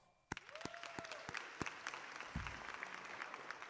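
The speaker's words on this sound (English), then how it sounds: "Gabe Guyton, round of applause." Scattered applause at a high school football awards ceremony, starting with a few sharp individual claps that build into sparse, fairly quiet clapping from a modest crowd, with a brief low voice murmur.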